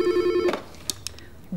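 A telephone bell rings loudly and briefly up close, a single electronic trill that cuts off abruptly, followed by a few light clicks and handling sounds.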